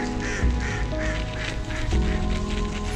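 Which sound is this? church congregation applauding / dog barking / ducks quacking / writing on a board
ducks quacking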